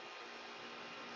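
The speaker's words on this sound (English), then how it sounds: "if you hear that noise in the background, that's the aircon's on in the house" A household air conditioning unit runs indoors as a steady, even hiss and hum with no change in level, heard alone without any voices.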